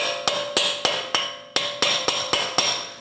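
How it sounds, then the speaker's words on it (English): A hammer strikes a punch to free the axle inside the hub of a 2011 or later Dodge Durango front suspension, giving about ten sharp metallic taps in a steady rhythm, close and clear with no talk. "Using a punch and a hammer, we're going to make sure that our axle is free inside of our hub."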